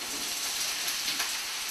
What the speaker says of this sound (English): let's throw in the zucchini